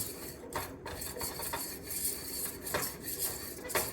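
A Pampered Chef whisk working flour in a hot pan, quick repeated metallic scrapes and rubbing strokes against the pan surface in an uneven rhythm, close and clear with no speech.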